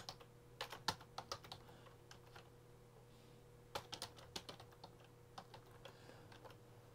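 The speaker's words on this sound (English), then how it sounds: "And we will type our code in here," Quiet clicking of code being typed on a computer keyboard, with irregular bursts of keystrokes and short pauses between them, close and fairly soft with no talking.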